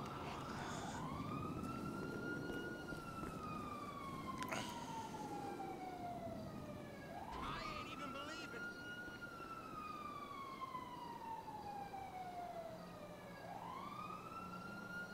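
Police car siren in a roleplay video game, a loud wailing tone sweeping up and slowly down in long repeated cycles, heard alone over steady road rumble.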